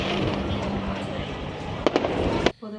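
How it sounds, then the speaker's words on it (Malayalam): Firecrackers burst all around during New Year celebrations, a dense continuous crackle with a few sharper, louder pops near the end, and voices faintly mixed in. "സ്ഥലത്ത് നമ്മുടെ ചുറ്റും പടക്കം പൊട്ടുന്നു."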